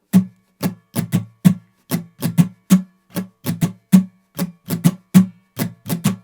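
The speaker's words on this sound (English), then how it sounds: "instead of playing the chords, we can just play muted strums" Muted guitar strums tap out a steady percussive rhythm, short choked scratches in quick pairs with no ringing chords.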